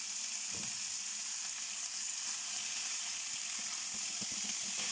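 Minced meat fries in a pan with a steady, close hiss of sizzling that stays loud throughout, with a few soft scrapes and clicks scattered underneath.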